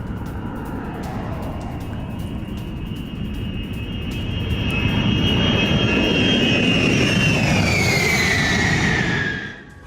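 An Israeli F-16 fighter jet engine roars loud and steady, swelling as it nears and then dropping in pitch as it passes and fades, with no voices.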